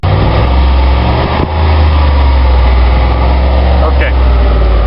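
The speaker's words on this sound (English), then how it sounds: "I guess I could give it maybe a rev." A 2002 Lincoln Continental's engine runs loud and close, with a deep, steady rumble and a brief dip where the revs shift.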